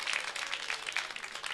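Studio audience on a Turkish TV variety show applauding, a steady wash of many hands clapping close and even throughout, with no talk over it.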